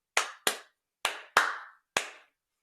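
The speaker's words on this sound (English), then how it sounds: "And then one level up would be you're just clapping" Five sharp hand claps in a short rhythmic pattern, two quick ones, a gap, then two close together and a final single clap, played as a rhythm game for an upper-elementary music class; close and clear with no talking.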